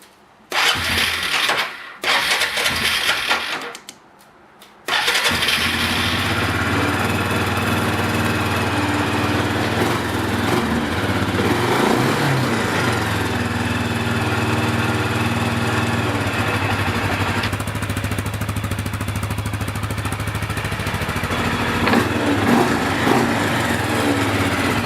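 A small ATV engine cranks and sputters in a few short bursts, then catches and settles into a loud, steady running drone after a fresh oil change.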